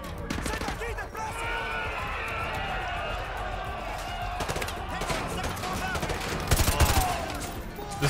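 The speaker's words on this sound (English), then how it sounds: "This gun sounds so good on the remaster" Gunfire from a weapon in Call of Duty Modern Warfare 2 Remastered, heard as dense, continuous battle noise with rapid shots and louder bursts near the end, mixed with game voices and sound effects.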